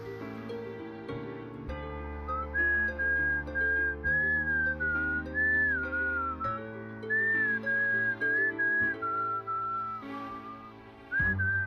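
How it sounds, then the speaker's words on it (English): A strained, tuneless whistle drifts over a cemetery in the game Reverse: 1999. It plays in wavering phrases above a steady layer of soft instrumental music, with no talk. "A strained, tuneless whistle drifts over the cemetery."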